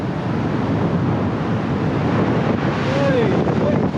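Strong coastal wind buffeting the microphone on a cliff near Munmorah on the NSW Central Coast, a steady loud roar with surf beneath and a brief voice partway through.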